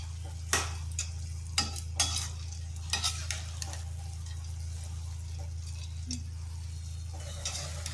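Boondi being stirred in hot sugar syrup in a pan, with intermittent scraping stirs and clinks over a steady low simmering hiss, close and alone without talk.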